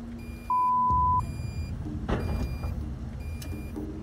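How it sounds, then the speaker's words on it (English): A broken-down bulldozer gives off a steady electronic beep tone, one clear long beep over engine rumble and machinery noise on a gold mining site, with other faint tones and clatter around it. "Negative, and it's beeping. It won't shut up."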